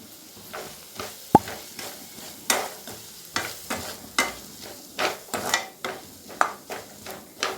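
Garam masala, coriander powder and chilli powder stirred in a hot pan for chicken podimas, a spoon scraping in a regular rhythm of sharp strokes over a soft sizzle, close and alone.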